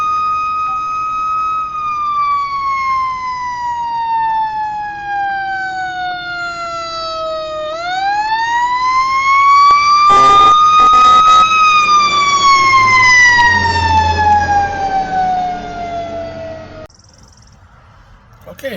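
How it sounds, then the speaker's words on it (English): A fire engine's siren wails near a fire station, loud and close, its pitch sliding down, rising again, then falling before it cuts off, with traffic rumble underneath. "That is the new fire station, hence the fire engine."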